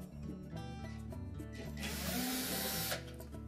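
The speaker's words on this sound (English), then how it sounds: "There are two screws that secure the top panel to the dryer, and we'll need to take those off." Power screwdriver whirring as two screws come out of the top panel of a Whirlpool dryer, a steady motor hum with a louder, brighter burst of driving noise in the middle, close up with no talking.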